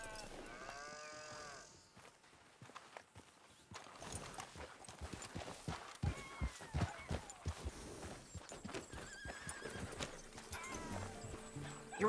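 In Red Dead Redemption 2, a horse whinnies loudly, then hooves clip-clop in a quick, busy rhythm, joined by a low moo and other animal and ambient game sounds.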